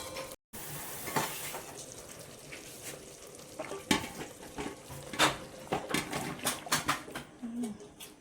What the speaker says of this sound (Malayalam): ഇതിനകത്തോട്ട് അങ്ങോട്ട് ചിക്കൻ ഇട്ട് കൊടുക്കാം